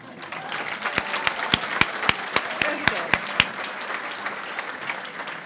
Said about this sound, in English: Now we can all clap.